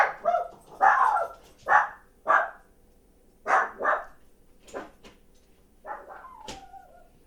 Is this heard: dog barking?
yes